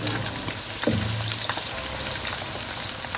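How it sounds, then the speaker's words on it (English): Pork cutlets fry in oil with a steady close sizzle and bubbling, dense crackle throughout and a brief clink near the start, no talking. "we're just gonna fry them for about 5 minutes on each side"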